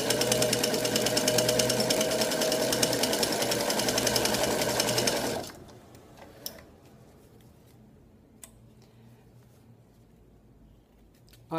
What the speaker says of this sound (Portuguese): E vamos estar passando uma costura aqui, ó.